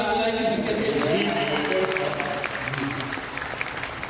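An audience claps at a public gathering, a burst of applause that is loudest at the start and then thins out while a voice carries on speaking.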